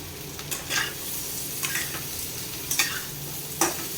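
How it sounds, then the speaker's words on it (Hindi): Potatoes fry in ghee in a pan with a steady, close sizzle, broken every second or so by the scrape of a spoon stirring, with no talk. "ये आलू फ्राई होगा, छोटे हो गए।"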